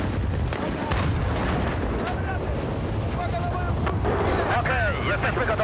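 A heavy explosion in Battlefield 4 on the Singapore map, fought near a tank, is a loud, sustained broadband roar with crackling gunfire-like bursts and wind-like rumble throughout.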